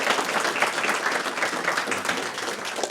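Sustained audience applause fills the room at a talk, a dense, steady wash of many hands clapping with no break.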